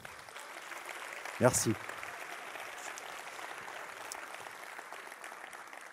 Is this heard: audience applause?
yes